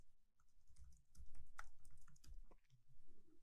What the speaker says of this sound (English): type a password for the admin user